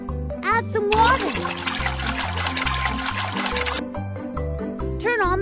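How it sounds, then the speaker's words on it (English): Water pours into a concrete mix in a children's mixer-truck cartoon, a steady rushing splash of about three seconds over cheerful looping music, with a child-like voice before and after. "Add some water."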